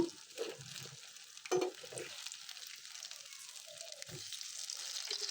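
Slices of pointed gourd frying in a pan, a faint continuous sizzle with a few brief clatters as the pieces are turned over.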